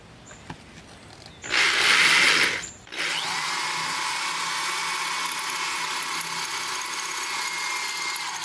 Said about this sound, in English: when I engaged the hammer drill